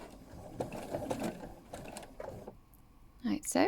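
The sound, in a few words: sewing machine making a few stitches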